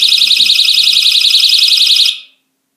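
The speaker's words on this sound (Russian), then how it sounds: "Сигнализация включилась." A Chinese magnetic door alarm system sounds a loud, shrill warbling tone that runs steadily for about two seconds, then cuts off abruptly into silence.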